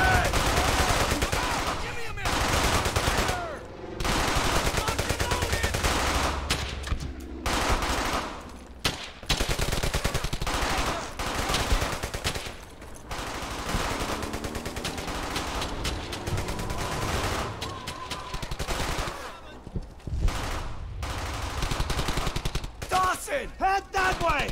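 Machine-gun and rifle fire in the WWII video game Brothers in Arms: Hell's Highway, loud repeated bursts and volleys over a chaotic battle soundscape, with soldiers shouting in between.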